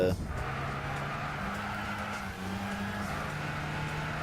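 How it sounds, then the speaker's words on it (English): A Citroën Zeta race car in Gran Turismo 6 slides with its tail kicked out, a steady droning engine tone with rising and falling pitch throughout, loud and even, with no talk. "so far this car really hadn't kicked the tail out until then"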